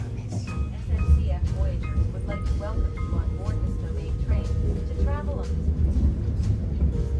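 From the upper deck of a double-decker early-morning commuter train leaving Paris for Rouen comes a low rumbling roll with rising, whining motor tones as it pulls away, with muted voices in the carriage.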